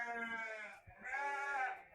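Young meat sheep, rams and ewes around three to five months old, bleat in a pen: several loud, quavering calls overlap, close by, with no talk.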